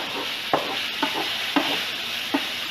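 Large shrimp sizzling in a pan for shrimp scampi, a steady close hiss broken by about four soft taps as they are stirred.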